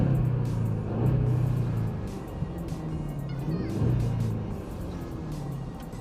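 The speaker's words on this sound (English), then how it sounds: "it just sounds amazing, and I'll start it up real quick for you too" A 2011 Jaguar XF with the 5.0 V8 idles and revs, with a deep rumbling exhaust and a couple of rising blips over a steady low idle, fairly close and loud.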